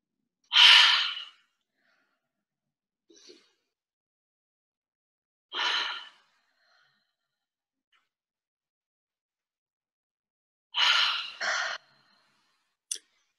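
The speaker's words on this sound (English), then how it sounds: "breathe in through the nose and out through the mouth" Slow, deep breathing: a few loud, breathy exhalations through the mouth separated by long silent gaps, with faint inhales between, close and otherwise quiet, ending on a short click.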